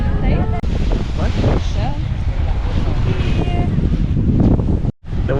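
Strong wind buffets the microphone by the sea at Olbia, a loud steady roar throughout with a brief dropout near the end, while people talk faintly underneath.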